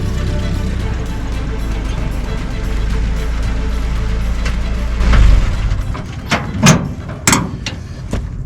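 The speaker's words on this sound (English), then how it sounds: "this Jeep is driving silky smooth down the road now" A 1962 Willys CJ5 Jeep drives down the road with a steady low engine rumble close by, followed by a few sharp knocks and clunks near the end.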